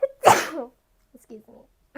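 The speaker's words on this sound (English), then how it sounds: "Hold on, I need to sneeze." A single close, loud person's sneeze bursts out, followed after a pause by brief speech.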